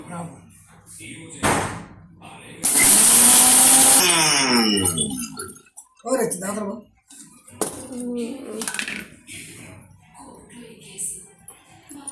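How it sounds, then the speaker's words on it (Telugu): A mixer grinder whirs loudly in a short burst while grinding raw mango chutney with salt, then stops, with someone talking before and after and occasional kitchen clatter around it. "మిక్సీ మెత్తగా అవ్వాలా"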